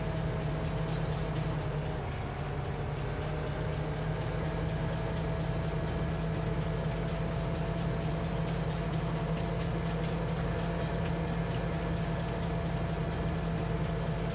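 A train rolling on a railway in Farming Simulator 25, a continuous loud low engine drone with a steady hum and no breaks, constant in level throughout.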